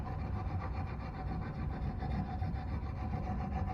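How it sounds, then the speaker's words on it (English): Sandpaper rubbed back and forth over a wooden crankbait fishing lure body to smooth it, a soft, close, steady scratching with an even stroking rhythm. "So then you just sand it smooth."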